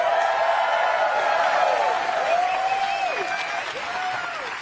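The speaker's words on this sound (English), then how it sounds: "Cue applause" Audience applause fills a hall right after the Quest 3 mixed reality headset is introduced at a product launch, steady and dense clapping with some cheering throughout, slowly easing near the end.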